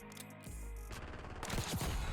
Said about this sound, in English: And then we do hand cannon